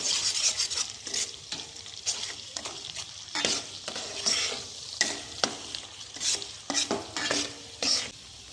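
Pointed gourd is stirred in a hot pan with turmeric, salt and chili powder. A spatula scrapes in quick repeated strokes over a bright sizzle, close and lively, with no talking.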